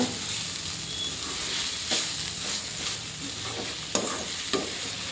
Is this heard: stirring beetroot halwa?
yes